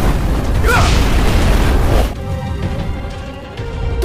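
A loud, rumbling explosion roars for two seconds, then fades into a lower, crackling, settling hiss.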